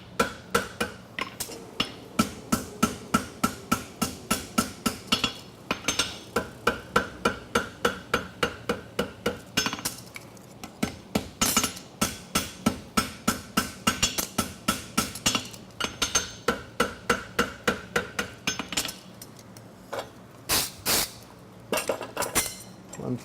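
A blacksmith hammers a fuller through a hot concave eggbar horseshoe at the forge, striking in fast, steady metallic blows with a few short pauses and ringing clinks throughout.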